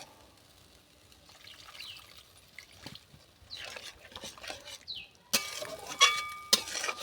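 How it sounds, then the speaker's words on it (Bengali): Small splashes and trickles of water are poured into a pan of a vegetarian Bengali eggplant dish, begun radharani, followed by light clinks of utensils against cookware, close and clear with no voices. "এইবার আমি অল্প করে জলটা দিয়ে দেব।"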